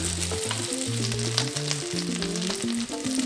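Tuna cakes frying in a pan give off a continuous crackling sizzle, with background music playing throughout.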